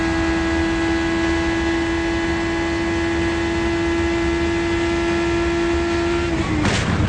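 An IndyCar engine screams at high, steady revs in an onboard view during the 2009 Indy 500, a constant loud whine with hissing wind, abruptly dropping off near the end as something breaks before the crash.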